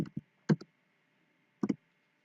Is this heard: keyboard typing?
yes